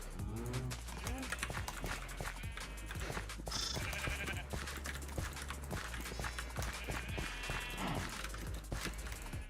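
Sheep in Minecraft bleat repeatedly amid a crowded pen, their wavering calls overlapping with soft clip-clop footsteps and scattered game sounds at a low overall level.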